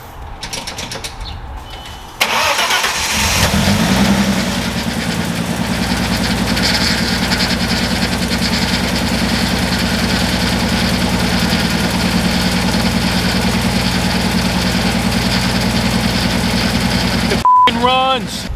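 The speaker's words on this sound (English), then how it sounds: "we're going to go ahead and give it a crank and see if it starts up now" An Audi S4 with a no-start fault cranks briefly and then catches, settling into a loud, steady idle with a constant low drone that runs for many seconds before a short clatter near the end.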